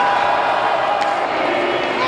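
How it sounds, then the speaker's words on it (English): A packed hockey arena crowd roars and chants at a Wilkes-Barre/Scranton Penguins home game against the Charlotte Checkers, a loud continuous wash of voices with a broadcaster's voice partly mixed in. "And all the crowd's chanting."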